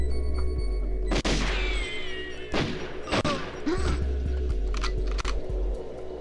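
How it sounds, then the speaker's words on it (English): Sharp gunshots crack repeatedly in quick bursts over a loud low rumbling soundtrack in a GoldenEye 007 mod, with scattered whistling and impacts. "Oh crap, I hear more gunfire."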